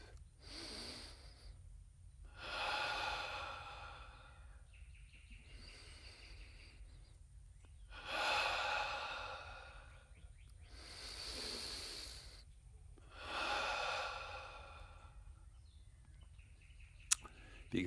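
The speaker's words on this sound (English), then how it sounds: "We start with a breathing exercise." Slow, deliberate breathing exercise: long drawn-out breaths in a steady rhythm of roughly four cycles, close to the microphone over a low hum, with no talking.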